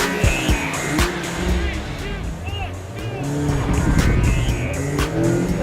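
A 2016 Mazda MX-5 launches off the line in a drag race against two 2015 MX-5s, tires squealing briefly with wheel slip as engines rev hard nearby, amid road noise and some talk.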